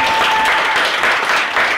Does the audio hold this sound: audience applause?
yes